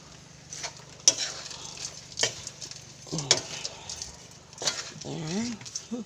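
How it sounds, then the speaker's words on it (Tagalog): Fried anchovies (dilis) being stirred through thick, sticky sugar syrup in a pan, with soft scraping strokes and occasional spoon taps over a low sizzle, close by, with some speech. "Ilagay ko na po itong dilis. Yan po yung pinirito ko kanina. Haluin lang po ulit ng haluin."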